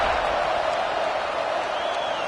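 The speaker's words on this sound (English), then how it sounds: "this crowd is buzzing after that last score" A packed football stadium crowd at a Penn State versus Auburn game keeps up a dense, steady roar, a broad continuous wash of noise with no distinct cheers or breaks.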